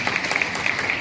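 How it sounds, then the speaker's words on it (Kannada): A hall audience at a comic debate programme applauds, a continuous even wash of clapping hands at moderate distance with no clear breaks. "ಅವ್ರಿಗೊಂದು ಚಪ್ಪಾಳೆ ಕೊಡ್ಬೋದು."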